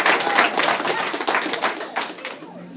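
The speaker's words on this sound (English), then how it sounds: "Round of applause." Comedy club patrons give a brief round of applause, starting as close, lively clapping and tapering off toward the end.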